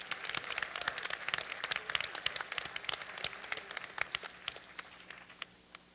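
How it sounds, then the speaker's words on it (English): An audience at a private house gathering claps for its hosts, scattered distinct hand claps forming a moderate, uneven round of applause that thins out toward the end. "Can you join me in giving our host, Andrew and Amy, another round of applause?"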